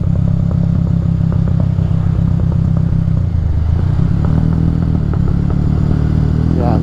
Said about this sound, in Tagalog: motor ko lang yung maingay